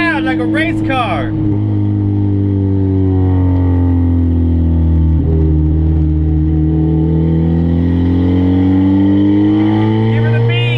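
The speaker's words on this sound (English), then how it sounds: "She's loud like a race car." A loud Honda Civic EF, just converted from automatic to manual, drones and revs steadily for about eleven seconds, its engine tone rising and falling slightly, with a brief voice near the start.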